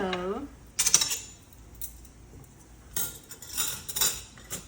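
Metal utensils clink and scrape against a plate while cutting a crispy Korean vegetable pancake, in two short bursts of bright, close-up contact sounds separated by a quieter pause.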